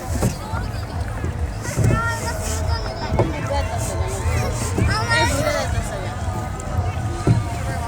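Rowing a small wooden boat on open water, with soft paddle splashes and hull knocks under steady wind noise and nearby voices talking throughout.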